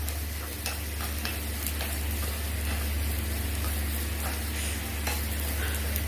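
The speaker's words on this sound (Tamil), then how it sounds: "ஒரே 1 ஸ்பூன் அளவுக்கு தேங்காய் கொஞ்சம் ரோஸ்ட் ஆகட்டும்" Grated coconut roasting in a pan with a pinch of asafoetida being stirred in, giving a steady soft sizzle with faint scraping stirs throughout, no voices.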